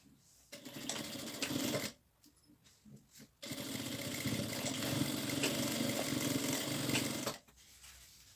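A sewing machine stitches a drawstring-lined seam along a marked line on fabric, running in a short whirring burst, stopping, then a longer steady run before halting, fairly faint and close.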